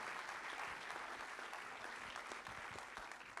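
A large audience at a Puy du Fou insurance federation congress applauds a singer: dense, steady clapping fills the hall throughout, loud and sustained, with no voices over it.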